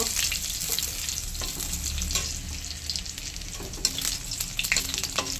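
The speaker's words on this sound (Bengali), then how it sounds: "ভালো করে রসুনটা একটু ভেজে নেব।" Crushed garlic frying in oil with black cumin and chilli in a pan, a loud continuous close sizzle with crackling pops and occasional stirring scrapes, no voices.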